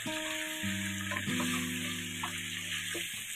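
Chicken and potato pieces fry together in a pan with a continuous soft sizzle, partly covered by steady, music-like sustained tones.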